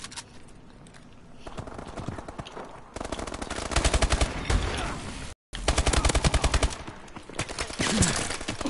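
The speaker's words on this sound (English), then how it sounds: "How many bullets are you shooting?" Loud automatic gunfire in a Call of Duty video game, rattling in rapid sustained bursts with a brief cut partway through, close and dominant throughout.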